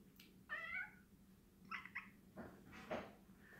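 A pet cat meows several times, short faint calls spaced a second or so apart in a quiet room with a low steady hum underneath.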